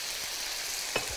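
Garlic in hot oil being quenched with vinegar makes a short burst of sizzling hiss, with a brief stirring scrape near the end; no speech.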